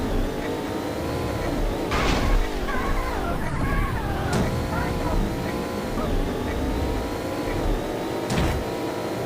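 A car driven toward a friend's garage in the video game Payback 2, its engine droning steadily under a continuous music-like tonal layer, with a few brief sharper bursts along the way.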